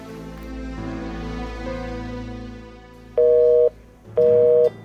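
A phone call rings out in a few long, steady ringback tones before two loud, clipped busy-tone beeps signal the call being rejected.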